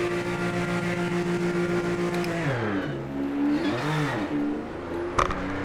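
A GT3 race car engine in Project Motor Racing holds a steady loud drone, then dips and swells through gear changes and revs, with a brief sharp click near the end.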